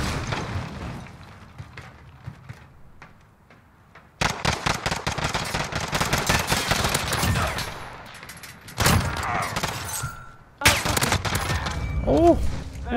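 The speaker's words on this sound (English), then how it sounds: "Gunfire!" Gunfire in a first-person shooter video game: after a quiet stretch with a voice, loud rapid automatic bursts erupt in dense repeated volleys, pausing briefly between strings of shots, with a player talking over the action.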